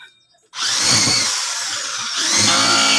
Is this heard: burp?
no